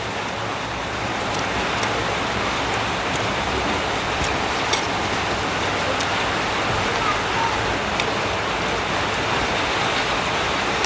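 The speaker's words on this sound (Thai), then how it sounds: "บรรยากาศฝนตกดินเนี่ย" Heavy rain pours during a storm, a dense, steady roar of falling water that holds at an even level throughout with no pauses or voices.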